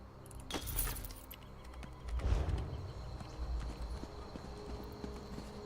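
A horse mount in the video game Elder Scrolls Online trots with steady clip-clopping hooves, a clear rhythmic patter up close, joined by a jingling of tack and a heavier thud partway through.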